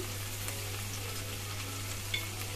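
Spices with salt, turmeric and red chilli powder frying in hot oil for a pickle, a steady close sizzle with faint stirring scrapes and a low hum beneath, no talking.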